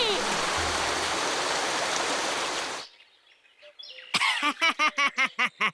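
Cartoon rain pours as a dense, steady hiss for about three seconds, then stops abruptly; a short quiet gap follows before a string of rhythmic bird-like chirps or calls.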